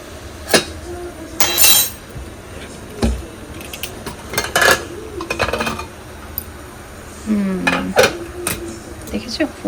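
A metal pressure cooker that had been left for two whistles is opened on a home kitchen stove. Scattered sharp clinks and clanks of the lid and pot come close by, spaced between bits of talk.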